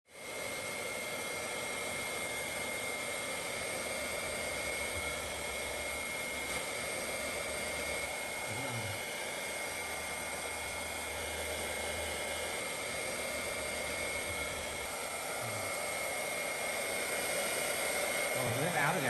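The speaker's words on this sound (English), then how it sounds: "used a hairdryer to dry Lily's" A hairdryer blows steadily and close by while a young girl's hair is dried at home after she comes in soaked from heavy rain, the even whooshing airflow running unbroken throughout with a few faint low thumps.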